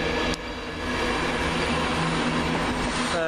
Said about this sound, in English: 1751 Virgin Train East Coast service to London,